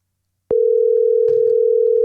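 A telephone line picks up with a click, then a steady, loud, continuous dial tone holds for over a second and a half, with faint background noise partway through.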